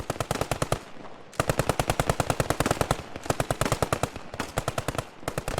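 Machine gun fire in a World War style video game battle: rapid, loud bursts of shots, close and nearly continuous with brief pauses between long strings of rounds.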